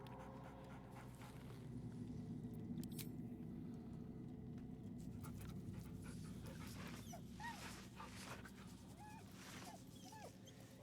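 A dog in Baldur's Gate 3 pants steadily and rhythmically at close range, with small whimpers and yips breaking in toward the end over a low background hum.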